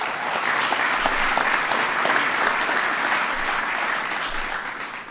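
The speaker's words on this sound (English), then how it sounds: "Give them a big round of applause." A crowd at a White House event welcoming the Golden State Warriors applauds loudly and continuously, a dense, sustained wash of clapping that tapers slightly at the end.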